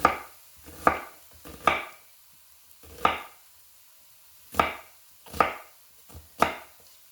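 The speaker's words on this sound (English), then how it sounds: "See, I just kind of rough cut my onion." A knife rough-cuts an onion on a board for homemade chili seasoning, producing about nine crisp, close chops at an uneven, unhurried pace with quiet gaps and no talk.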